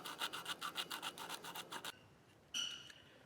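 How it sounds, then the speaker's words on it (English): Quick back-and-forth rasping strokes of sanding a snowblower engine's ignition points scrape in a steady rhythm for about two seconds, then stop, followed by one more short scrape. "sanding the points here"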